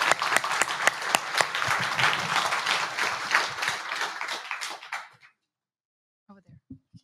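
An audience at a cloud security conference talk applauds loudly and steadily for several seconds, then the clapping stops abruptly, leaving silence broken by a few faint knocks.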